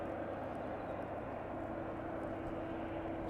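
An aircraft near East Midlands Airport gives a constant broad engine roar with a steady droning tone, moderately loud and unbroken throughout, with no voices.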